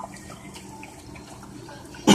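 Water flowing in a reef aquarium sump, a faint steady trickle and babble that swells into a louder close gush at the very end.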